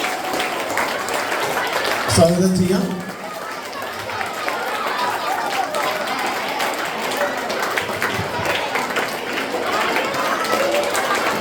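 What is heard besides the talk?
audience applause welcoming a guest on stage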